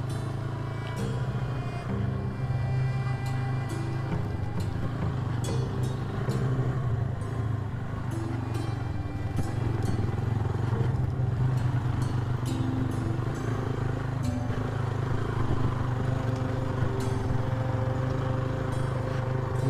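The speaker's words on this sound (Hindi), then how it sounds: "मुसलसल पहला गेयर ही चल रहा है बाइक का।" Motorcycle held in first gear climbing a rough, steep off-road jeep track through forest, its engine droning steadily and close throughout with a constant low rumble and light rattles, no talk.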